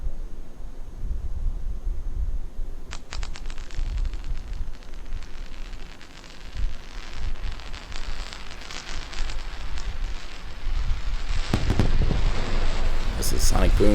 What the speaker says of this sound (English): This is sonic booms.